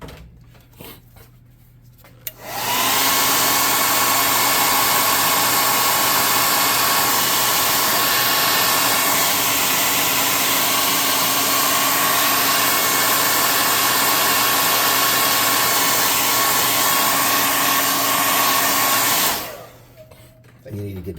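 A hot air gun blows steadily on wet paint on a scale model building, a loud continuous whoosh that starts abruptly, holds for about sixteen seconds and then cuts off.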